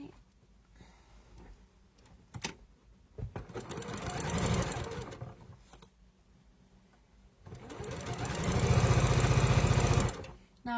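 A sewing machine stitches a quilt block seam in two bursts, a rising, rapid whirring hum that starts, stops, then runs again louder, close up, with quiet handling noises between.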